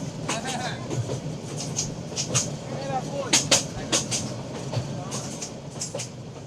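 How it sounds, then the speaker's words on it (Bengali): A moving local train in Bangladesh rattles and clatters along, with rhythmic clanks and sharp metallic knocks recurring over a steady rumble, heard from inside the carriage. "চলন্ত ট্রেনে সবুজ প্রকৃতি দেখতে দেখতে ট্রেনটি পৌঁছে গেল আমাদের গন্তব্যস্থান জামালপুর"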